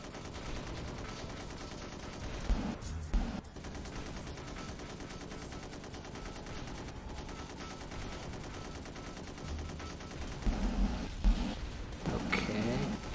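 Gunfire from the video game Gun Metal, with dense, continuous bursts of rapid shots layered with heavier blasts that keep going for the whole stretch at a fairly even loudness.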